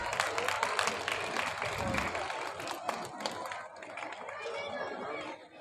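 Applause from a crowd at a community gathering of the Rathore Teli Samaj in Bundi, clapping mixed with chatter and speech that thins out toward the end.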